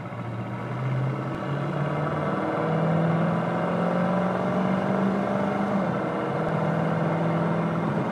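A 1967 Ford Mustang fastback engine revs up through the gears at highway speed, its pitch climbing and dropping with each shift over steady road noise, heard from inside the car.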